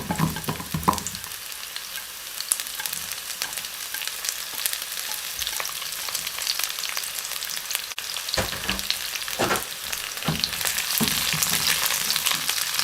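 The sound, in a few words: onion sautéing with garlic and ginger in a pan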